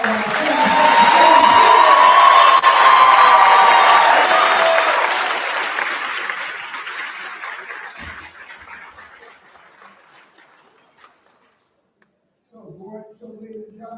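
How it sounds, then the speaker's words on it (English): Crowd applause and cheering at a middle school graduation, loud sustained clapping that swells, then fades gradually over several seconds into near silence before a voice begins speaking. "Can we have one more round of applause from all of our"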